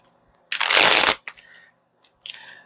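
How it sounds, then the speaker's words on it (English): Tarot cards are shuffled in one loud, dense riffling burst lasting about half a second, followed by a few softer card taps and slides, then a brief second riffle near the end. "I'm going to reshuffle the cards."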